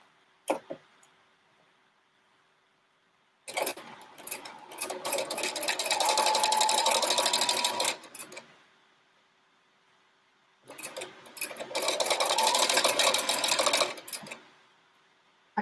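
A sewing machine stitches quilt pieces in two long steady runs of rapid needle chatter, each several seconds, separated by quiet pauses with a faint background hum.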